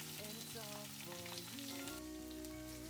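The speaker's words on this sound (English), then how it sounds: "in a pan I added oil, a few whole spices along with the onions, sauteing them for a few minutes until golden" Onions sauteing in oil with whole spices in a pan for an Indian vegetarian dinner, a steady soft sizzle and crackle running throughout beneath sustained music.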